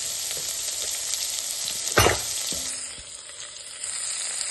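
Onions fry in a pan for ridge gourd milk curry, with a strong steady sizzle and one sharp clank of a stirring utensil midway before the frying settles lower. No speech.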